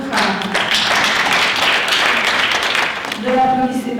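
An audience at a conference applauds in a dense, steady patter of clapping that fades near the end, with a voice starting to speak over it.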